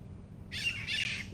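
A short burst of bright, scratchy bird calls over a low background hum, fairly close.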